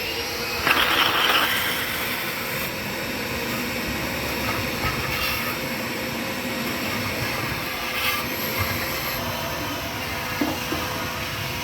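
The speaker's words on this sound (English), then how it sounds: "It's a shop vac that sucks up liquid." A shop vac sucks liquid out of a motorcycle gas tank during rust removal, giving a steady, loud broadband rushing hiss with occasional gurgling surges throughout, no talking.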